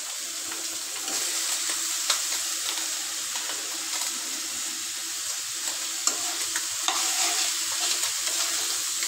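Bitter gourd goes into a hot frying pan, giving a steady close sizzle with occasional scraping stir strokes throughout, and no one speaking.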